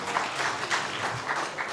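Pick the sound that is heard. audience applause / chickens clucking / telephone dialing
audience applause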